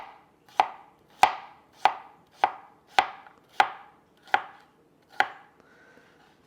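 A knife slices through an Armenian yarlong cucumber on a board, nine sharp, evenly paced cuts roughly every two-thirds of a second, close and clear with quiet pauses between, no voices.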